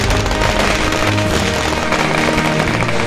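Firecrackers bursting in a dense, continuous crackle at a BJP workers' victory celebration in Jamkhandi after the Gujarat assembly election win, loud and close throughout with no talk.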